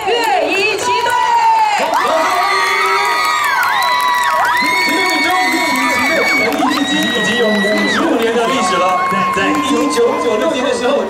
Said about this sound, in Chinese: 让我们以热烈掌声来欢迎来自台北市景美女中乐仪七队。